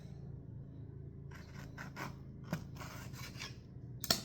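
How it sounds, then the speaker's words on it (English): A knife cuts a lemon in half: a run of soft, quiet scraping and slicing strokes in quick succession, ending with a sharp tap as the blade meets the board. "I'm gonna cut this one in half"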